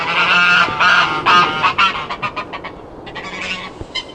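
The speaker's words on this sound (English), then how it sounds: "Watch them geese, they're a bit" Geese at a reconstructed motte and bailey castle honking loudly and close by, a rapid series of harsh, overlapping calls that break into short choppy bursts toward the end.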